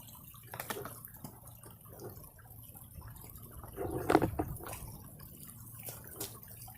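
The hose of a Sunglife cordless portable pressure washer is tossed into a river, making a soft splash midway. Faint dripping and trickling water sounds come before and after it in a quiet outdoor setting.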